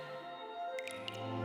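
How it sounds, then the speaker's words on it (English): Mineral-rich water drips from a limestone cave ceiling in a few distinct, clear plinks spaced apart, set against a steady background of soft tonal music. "Mineral-rich water gently drips down from the cave ceiling"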